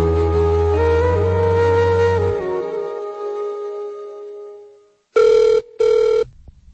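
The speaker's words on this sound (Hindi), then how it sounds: "लो अभी फोन लगाता हूँ" A telephone ringback tone is heard after a call is dialed: two loud, even ring bursts with a short gap between them, following a fading musical tone.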